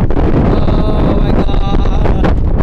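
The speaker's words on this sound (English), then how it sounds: "That's the wind." Wind buffets a microphone outdoors, producing a loud, continuous roar and rumble that fills the whole stretch without letting up.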